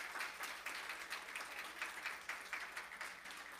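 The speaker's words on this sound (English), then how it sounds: "we can clap for Miss Nikki, absolutely." A church congregation claps for Miss Nikki during a service: fairly quiet, distant applause with individual claps audible as a loose, uneven patter that continues steadily without voices.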